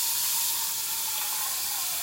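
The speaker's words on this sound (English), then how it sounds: "Get your frying pan. Submerge it in cold water." A hot frying pan is plunged into cold water and gives off a loud, continuous hiss of steam that holds steady throughout at close range.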